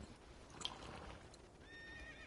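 A horse whinnies in the video game Prince of Persia The Lost Crown, one short clear neigh with faint hoof clip-clop amid game ambience and no talking.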